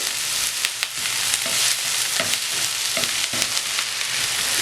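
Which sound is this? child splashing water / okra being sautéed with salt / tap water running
okra being sautéed with salt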